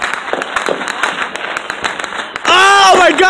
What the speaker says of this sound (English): I think we have some firecrackers gonna go off right here.